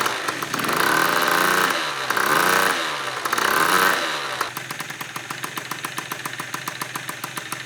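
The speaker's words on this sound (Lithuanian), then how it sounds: "Nu žinokit, kad tas motoroleris tvarkingai savo burbuliuoja dabar" A Yamaha Aerox scooter engine warms up at idle, revving in three short swells before settling into an even, rapid putter close by, with no voices.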